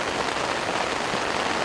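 Steady rain falling outdoors at a lake, a dense, continuous hiss of drops with no voices.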